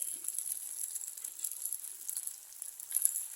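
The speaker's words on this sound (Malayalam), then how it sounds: "കുറച്ച് ഉപ്പിട്ട് കൊടുക്കാം വേഗം വഴന്ന് കിട്ടാൻ നന്നായിട്ടൊന്ന് വഴറ്റാം" Onion, tomato, green chilli, ginger, garlic and curry leaves sautéing in oil with salt for a sardine curry, a soft, faint hiss with light crackles and occasional stirring ticks, no talking.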